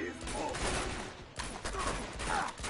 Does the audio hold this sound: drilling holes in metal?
no